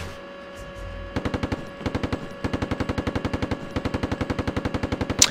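Caliber .50 coaxial machine gun on a tank in a video game, firing in rapid bursts of evenly spaced loud shots with short pauses between strings, over a steady engine hum.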